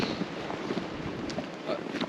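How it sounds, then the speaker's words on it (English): Wind buffeting a microphone on an exposed stretch of the Jura Crest Trail, a steady rough rumbling roar with gusty surges, close and fairly faint. "That is windy"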